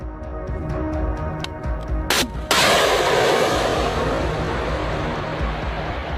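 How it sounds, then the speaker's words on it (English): A Javelin anti-tank missile launches with a sudden loud blast and whoosh, followed by a sustained roaring rush that slowly fades, set against a steady rumbling background. "Javelin anti-tank missiles."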